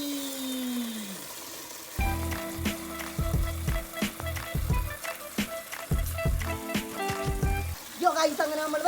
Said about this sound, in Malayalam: അപ്പോൾ ഗൈസ് വെള്ളം നിറക്കുകയാണ് സുഹൃത്തുക്കളെ നമ്മൾ